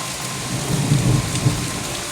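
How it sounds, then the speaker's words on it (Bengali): Heavy rain pours down in a dense, steady hiss while low thunder rumbles and swells underneath, with no one speaking. "থামতে না থাকতেই জোরে বৃষ্টি এলো দেখো"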